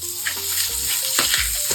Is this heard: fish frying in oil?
yes